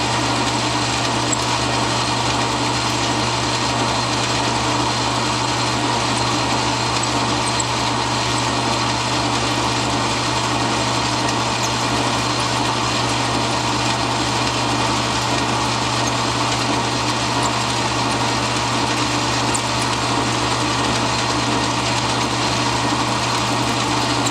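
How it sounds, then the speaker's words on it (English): A metal lathe cuts steel under heavy load, with the feed set to take about 80 thousandths per side, giving a steady, loud mechanical whine and low hum that holds constant throughout with no voices. "You can hear the lathe taking the load."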